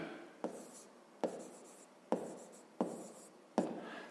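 A pen writes on paper during a fifth-grade math exercise, making five quick scratching strokes at a steady rhythm, close and quiet, with no voices.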